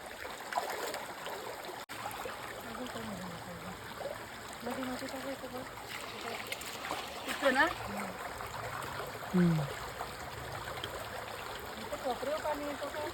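Steady rushing of stream water flowing nearby, a continuous wash of sound with a voice talking over it at times.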